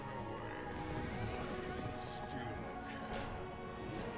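A horse whinnies and its hooves clatter in a Hearthstone card game, with busy game music and effects underneath.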